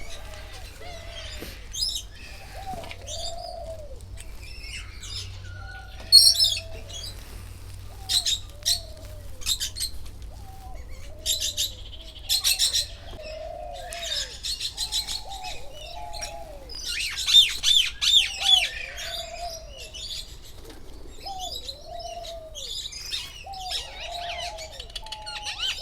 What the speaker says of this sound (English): These are the king parrots.